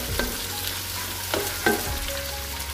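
A loud steady sizzle rises from papaya flowers frying with lemongrass, ginger and tomato in a pan, broken by a few scraping clinks of the spatula as it stirs.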